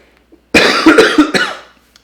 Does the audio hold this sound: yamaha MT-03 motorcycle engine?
no